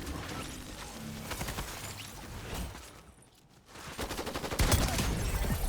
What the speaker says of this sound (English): Pump shotgun, baby.